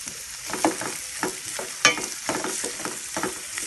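Chopped onion frying in hot oil gives a steady, bright sizzle. Occasional stirring scrapes and pops are close and clear, with no talking.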